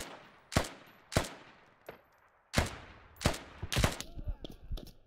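Bursts of AK rifle fire in a first-person shooter game, sharp loud cracks in short uneven volleys with a rapid cluster near the end, close and with no talk.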